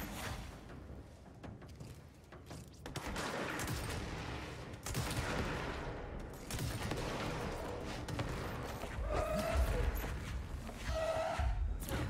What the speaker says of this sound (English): Oh Lord, they shooting at me.